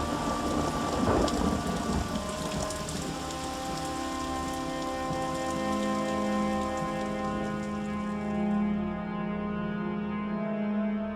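Steady rain with rolling thunder in a thunderstorm during a fire-ravaged 17th-century London, heard alone at a constant, moderately loud level, with a dense hiss and a deep rumble building early.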